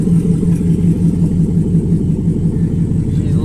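A shop truck with a Gen 5 engine swap rumbles loudly and steadily nearby, a deep continuous engine drone with a slight rise in revs.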